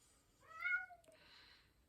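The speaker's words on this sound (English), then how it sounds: "My cat said no." A cat gives a single faint, drawn-out meow, followed by a brief soft breathy trailing sound, in a quiet room.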